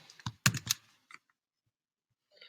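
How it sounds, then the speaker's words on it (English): A computer keyboard clatters in a quick cluster of close key presses as a URL is entered, followed by a few isolated taps and a faint final click. "I'm going to type the URL."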